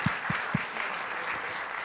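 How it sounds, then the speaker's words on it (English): Applause from the audience at a chamber of commerce community event, a steady broadband patter of clapping held at a moderate level for about two seconds, with a few low thumps early on. "Please applaud"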